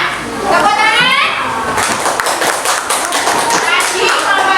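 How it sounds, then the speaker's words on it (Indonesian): Children in a classroom clapping their hands together, sharp close claps layered with young voices and chatter, the clapping thickening midway and continuing to the end. "Tepuk tangan."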